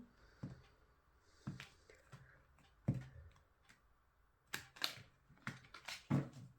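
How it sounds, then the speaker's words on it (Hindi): Tarot cards shuffled by hand, quiet irregular flicks, taps and riffling snaps at close range, scattered through a soft near-silent background with no talk. "कार्ड्स को हम शफल कर लेते हैं ताकि आपकी एनर्जीज को मैं पिक करूं"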